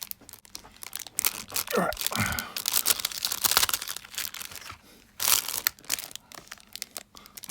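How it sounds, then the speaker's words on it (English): Crinkly plastic bag wrap being pulled and torn open by hand, with bursts of crunching and rustling close up, under brief talk. "Not only knives I can't open plastic bags, you can see that."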